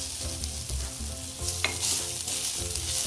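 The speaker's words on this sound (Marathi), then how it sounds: "त्याच तुपामध्ये आपण खसखस परतून घेऊया खसखस परतली ओल्या खोबऱ्याचं किस टाकूया" Poppy seeds and grated fresh coconut fry in ghee in a pan, giving a steady close sizzle with stirring scrapes throughout and one brief sharper clink partway through.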